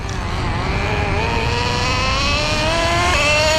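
The engine of a Schumacher Menace 21 road-tested with a 2-speed gearbox makes a loud, steady buzzing whine that climbs in pitch, with a slight step near the end as the gear shifts, and no voices.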